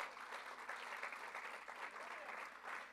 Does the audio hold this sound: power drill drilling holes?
no